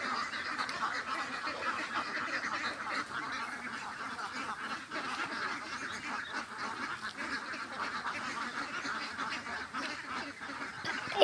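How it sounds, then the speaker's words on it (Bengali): A flock of ducks on a duck farm of about 360 birds keeps up a dense, continuous chorus of quacks and honks at moderate level, steady throughout without pause. "এই আমাদের হাঁস যাচ্ছে"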